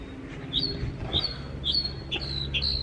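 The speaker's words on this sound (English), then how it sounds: "Jar Jar Binks is our resident bird. He lives on a chimney up here." A wild bird living on a chimney chirps in a series of short, bright calls about every half second, heard over a steady low outdoor rumble.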